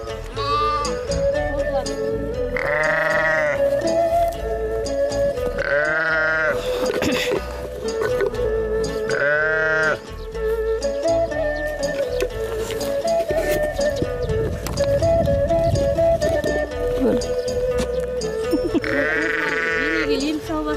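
Sheep bleat at a summer mountain pasture, with several loud drawn-out calls rising over a busy rural background while voices talk.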